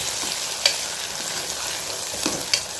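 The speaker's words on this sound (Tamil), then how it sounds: "ஒரு இனுக்கு கருவேப்பிலை சேர்த்து நல்லா வதக்கி வச்சுக்கலாம்." Onions and curry leaves sautéing for a beef gravy in a pan, a soft steady sizzle with a couple of brief scraping stirs of the spoon, fairly quiet and close, no voices.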